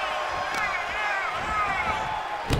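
Wrestling arena crowd at a tag-team match, a steady roar of cheering and shouting filling the space throughout, with sharp thuds from the ring near the start and end.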